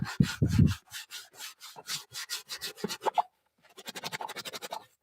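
Dirt is scrubbed off a surface with cleaner in brisk, close rubbing strokes, a rhythmic series of scrapes, then a short pause and a quicker run of strokes.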